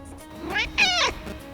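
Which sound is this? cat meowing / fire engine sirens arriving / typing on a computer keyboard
cat meowing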